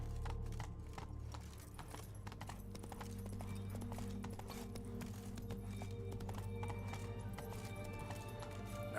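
Hooves of Geralt's horse Roach clip-clop in a steady galloping rhythm in Witcher 3, close and continuous over a droning musical and ambient game background.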